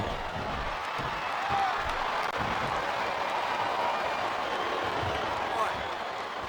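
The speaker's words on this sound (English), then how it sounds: "Sounds like this crowd's got something on their minds, King." Arena crowd noise from the WWE SmackDown vs. Raw 2007 video game during a Last Man Standing match between Batista and Booker T: a steady, dense roar of many voices with scattered claps, continuous throughout.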